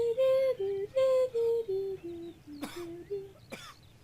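A video game character from The 39 Steps coughs twice, two sharp, rough bursts that come after a short descending run of tuneful tones and sit fairly close and clear.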